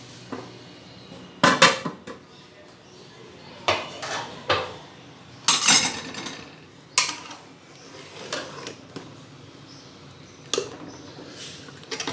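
Metal clatter of a cooking pot lid being lifted off a pot of spinach chana dal, with several sharp clinks and scrapes of utensils spread across the stretch, close and clear in an otherwise quiet kitchen.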